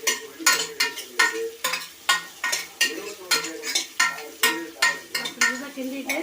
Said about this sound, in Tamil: வெங்காயம் போட்டுட்டு ஒரு 10 நிமிஷம் கிண்டணும்